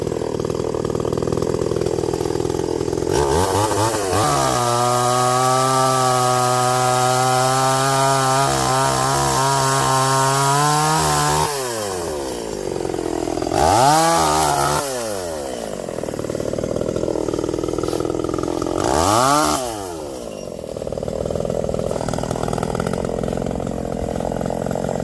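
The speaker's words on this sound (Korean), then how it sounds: "요거를 감벌해서 확 그 엔진톱으로 날려버릴 겁니다" A chainsaw cutting pear tree branches during orchard pruning, the engine revving high in a sustained whine under load, then dropping and rising again in several shorter bursts, loud and close.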